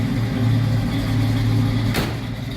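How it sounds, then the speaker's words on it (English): A 1967 Chevrolet Camaro RS convertible idles with a low, steady engine rumble heard from behind the car, loud and close, with a brief sharp noise near the end. "Go ahead and slip around back so you can hear this rumble."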